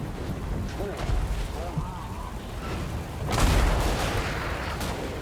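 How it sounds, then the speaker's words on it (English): Brimstone guns firing during a Warhammer video game battle, rolling booms and dense crackling volleys that swell into a louder burst midway, with battlefield noise throughout. "let's go watch these brimstone guns"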